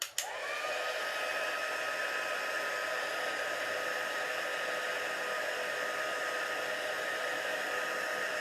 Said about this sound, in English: we will heat it with the heat tool to heat set the embossing powder